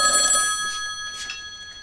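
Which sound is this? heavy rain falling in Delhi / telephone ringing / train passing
telephone ringing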